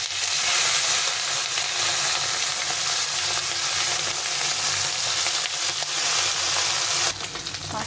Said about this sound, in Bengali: তেলটা গরম হয়ে গেছে, এখন মাছগুলো আমি ভেজে নেব